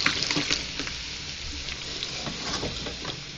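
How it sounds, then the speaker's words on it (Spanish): A sausage fries in a pan alongside beans and vegetables, giving a steady, close sizzle with soft crackles and occasional stirring scrapes, no voices. "Ya se está cociendo la salchicha"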